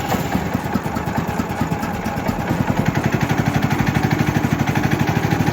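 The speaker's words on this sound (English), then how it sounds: "let's start this thing up." The four-stroke engine on a Woodland Mills HM130max sawmill catches and settles into a steady, fairly quiet idle, its regular low pulsing chug close by and uninterrupted by voices.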